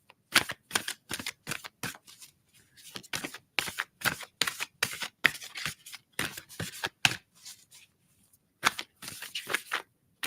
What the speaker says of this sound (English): Right, let me shuffle them for Jacqueline.